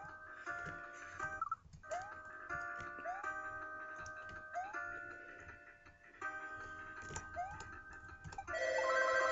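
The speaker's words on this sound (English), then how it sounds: "And random phone in background." A telephone rings in the background, repeated ring tones in a steady pattern mixed with game music and jingles, moderately faint and continuing throughout.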